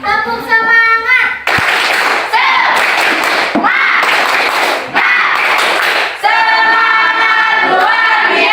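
Classroom of students performs a 'tepuk semangat' rhythmic clap chant, loud close bursts of patterned clapping interleaved with children's voices chanting in unison, in several sharp sections.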